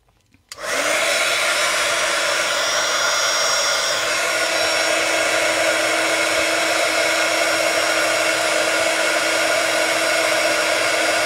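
Steady, loud whoosh of a heat tool melting embossing powder on a paper flower, starting abruptly after a short quiet moment and blowing continuously with a constant motor hum and no talk.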